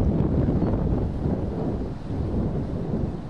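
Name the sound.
wind on a golf course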